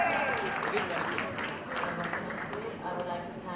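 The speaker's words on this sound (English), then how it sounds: "Round of applause, everyone." At a fashion show, the audience applauds a designer, with crowd clapping mixed under a voice talking over it, loud at first and then settling to a steadier, softer level.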